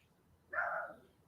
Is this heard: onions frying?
no